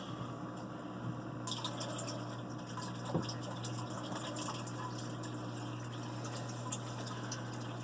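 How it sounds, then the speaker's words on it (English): Water trickles and bubbles softly through a Lifegard Aquatics Top Flow Nano Turbo Reactor in an aquarium, with a steady low pump hum underneath and a few faint drips and splashes. "Got a little bit of bubbling going on."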